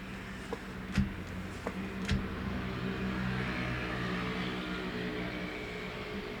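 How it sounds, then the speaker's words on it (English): A loud motorcycle passing by outdoors, a steady engine drone with a couple of sharp clicks early on, holding at a moderate level as it goes past. "loud motorcycle going by"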